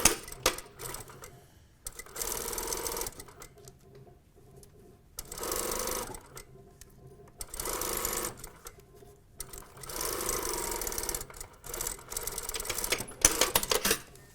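A sewing machine stitches a seam on a fashion box top toile in several short bursts of rapid whirring, separated by quiet pauses, close by and alone.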